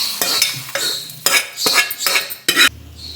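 Roasted spices with tamarind are scraped out of a metal pot onto a plate, a run of loud close spoon clatters and scrapes in irregular bursts, then a short quiet hum at the end.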